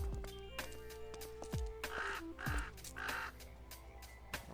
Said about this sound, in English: Some kind of crow or something?